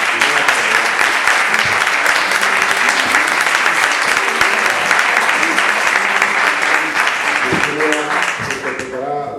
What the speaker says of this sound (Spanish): pido para ellas, para esas 4 mujeres, un aplauso porque se lo merecen